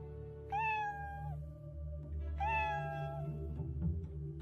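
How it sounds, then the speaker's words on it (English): Two separate kitten meows, each a clear rising-then-falling cry of under a second, heard close over a steady low background hum with no talk. ""Meow." A sound came from Heidi's pocket."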